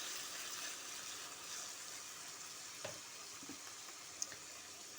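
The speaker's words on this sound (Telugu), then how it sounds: "టమాటా వేసేస్తున్నాను. ఈ టమాటా ఆనియన్స్ బాగా మగ్గనిద్దామండి." Tomato added to onions frying in a pan, a soft steady sizzle with a few light clinks and stirring scrapes, close and alone without talk.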